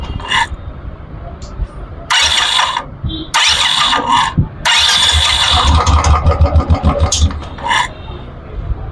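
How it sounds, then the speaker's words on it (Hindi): Royal Enfield Bullet's electric self-starter cranking the engine in several loud bursts, whirring starter with mechanical grinding separated by short pauses, the last bursts longer and settling toward engine running, close up with someone talking between attempts. "गाड़ी में मारता हूँ मैं सेल्फ, चाबी कर रखी है मैंने ऑन"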